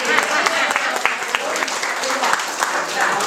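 A Nature Club open house audience applauding a technical assistant, a loud, brisk burst of clapping from a roomful of people, with voices audible underneath.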